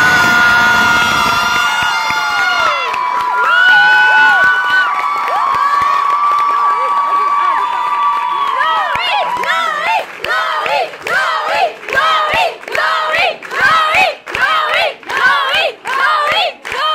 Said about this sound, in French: Applaudissements pour l'œil noté s'il vous plaît.